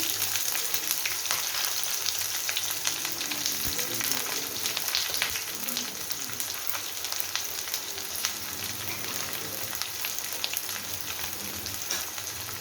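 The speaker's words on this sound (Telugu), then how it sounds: "ఇవన్నీ బాగా ఫ్రై కావాలండి." Onions and green chillies sizzle and crackle steadily in hot oil, a dense continuous frying sound with occasional stirring, close by.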